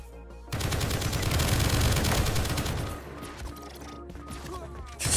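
Rapid automatic turret gunfire in the indie shooter game Project Onyx, a dense fast burst of crackling shots lasting a few seconds, then quieter scattered impacts and a final blast.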